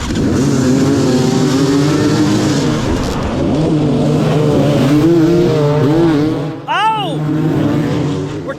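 Dirt motorcycles at the start of a 2022 Tough Like RORR race, with loud, close engines revving and whining continuously, pitch rising and falling through gear changes, and a brief rough thump near the end.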